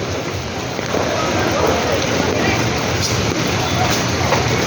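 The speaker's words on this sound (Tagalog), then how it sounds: "Oh, sobrang ulan oh." Heavy rain pours steadily in a dense, continuous hiss, close and loud with no letup, during flooding in Cartimar.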